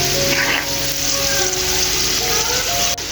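Garlic cloves frying in mustard oil for a garlic pickle, a steady close sizzle with light crackling throughout and no voices.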